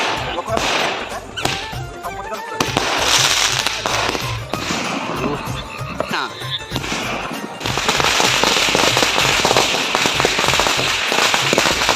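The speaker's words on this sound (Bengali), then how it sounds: "এই দিকে চলছিল বিভিন্ন রকমের আতসবাজি ফাটানো" Rapid volleys of firecrackers pop and bang loudly, overlapping bursts of fireworks crackling continuously at a wedding procession, with a crowd's murmur faintly beneath.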